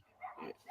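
Neighbouring dogs going wild next door, a short burst of faint, distant barking with overlapping yips, muffled as if through walls.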